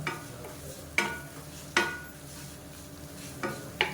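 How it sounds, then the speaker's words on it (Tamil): Chutney ingredients stirred in a pan with the gas turned off, a few sharp scraping strokes of a spoon against the metal at irregular intervals over a low background hum, close and moderately loud. "அமர்த்திட்டு அந்த சூட்லேயே வதக்கி விட்டுறேன்"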